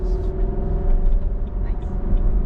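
Steady low exhaust rumble from a 2021 Nissan Armada on the move, a constant droning hum with faint road noise and no clear revving.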